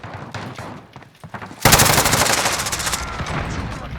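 Automatic gunfire in the Call of Duty Modern Warfare video game breaks out suddenly and keeps going as a dense, loud stream of rapid shots after a quieter stretch of game ambience, with no voices.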